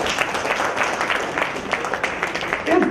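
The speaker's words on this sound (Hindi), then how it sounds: "इनके लिए जोरदार तालियां होनी चाहिए।" Audience clapping at a motivational talk, a steady, dense patter of many hands that continues evenly from start to finish at close range.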